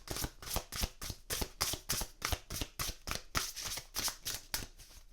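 Animal oracle cards being shuffled by hand, with quick regular riffles of crisp papery flicks repeating steadily and close up, quiet and without any voices.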